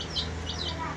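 A chicken clucks and chirps close by in a few short, high calls over a low background hum.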